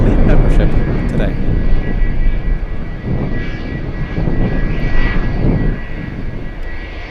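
A Boeing 777-300 freighter jet at Anchorage airport, taxiing with runway 15 in use and gusty winds, gives a steady, loud engine roar that stays continuous throughout, with wind buffeting and some talk over it.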